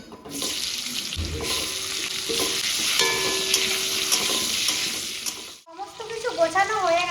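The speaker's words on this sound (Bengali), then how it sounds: "প্রথমে তেল হলুদ লবণ দিয়ে দিয়েছি আলুগুলো ভেজে নেব" Potato pieces frying in oil with turmeric and salt, for a mutton curry, sizzle loudly and continuously up close, with stirring scrapes, then break off near the end into a few brief, faint sounds.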